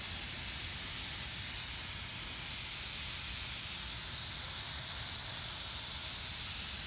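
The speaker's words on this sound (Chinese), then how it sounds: "那个水要细一点，对，像喷雾一样那样的" Fine spray nozzle misting water onto seedling soil in a winter vegetable garden, a steady soft hiss continuing unbroken for several seconds with no talk.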